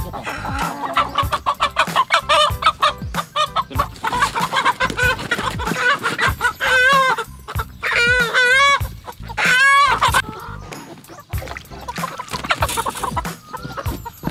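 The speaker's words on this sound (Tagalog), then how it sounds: "Ito yung aking mga tandang na nakabukod dito para mas mabilis tayo." Free-range roosters cluck and squawk loudly up close while being caught in a cramped pen, with agitated bursts and a few crow-like calls and rustling and handling noises between them.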